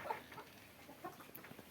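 Tiger breed hens on a poultry farm in Bakshiganj, Jamalpur give soft, scattered clucks while laying eggs, faint and a short way off, with a few brief higher calls mixed in.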